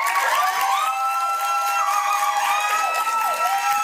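A television studio audience cheers and whoops loudly and continuously, with clapping mixed into the steady roar of voices.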